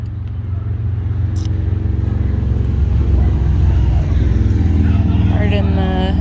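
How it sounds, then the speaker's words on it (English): Road traffic rolls past a home garden, a steady engine and tire rumble from nearby vehicles that swells slightly as it passes, with a person talking over it. "Pardon the traffic."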